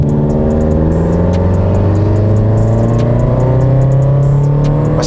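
A car engine drones loud and steady under hard acceleration on the road, its pitch climbing gradually with no pause, close and filling the space with faint whirring and rustling above.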